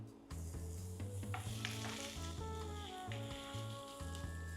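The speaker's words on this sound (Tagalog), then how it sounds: "magigisa tayo ng bawang." Garlic sautés in smoky oil for white palabok. A soft, low sizzle and scraping stir sounds sit under a repeating tonal hum from the background.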